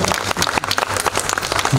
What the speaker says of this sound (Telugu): చప్పట్లు అందరూ గట్టి కొట్టండి